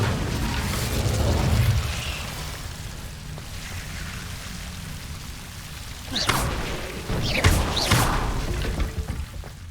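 A fire spell cast in Hogwarts Legacy, heard as a low rumbling whoosh with crackling, followed by several sharp bursts and flaring swooshes near the end.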